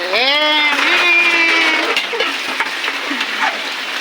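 Steady rain pours down around a home in a continuous broadband hiss, with a brief voice-like tone at the start before the patter carries on alone.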